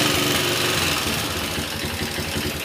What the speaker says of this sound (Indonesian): Lalu saya hidupkan mesinnya. Nah, hidup mesinnya.